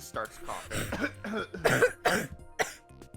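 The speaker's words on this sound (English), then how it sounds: "He just starts coughing." A string of rough coughs and throat clearing from a character in the video game Ace Attorney: Spirit of Justice, several bursts in close succession, fairly close and moderately loud.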